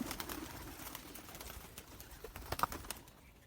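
Four domestic pigeons, newly bought at a market, coo softly nearby, with low rolling calls and light rustling and a faint flap in a quiet space.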